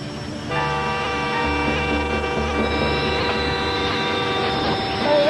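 A Conrail train fitted with a wide front snow plow rolls past close by, a heavy rumble joined by sustained metallic ringing and squealing tones that hold steady for several seconds.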